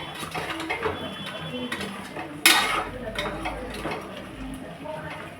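Spoon scraping and clinking around a pot as chili powder is mixed into mutton curry, irregular metallic stirring with one sharper clatter midway, alone without speech.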